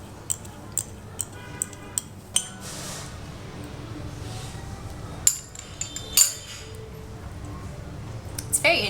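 A spoon clinks against a glass or cup while stirring a sweet beer custard dessert at a Hanoi food stop, light irregular taps under faint background chatter, with a louder clatter near the middle.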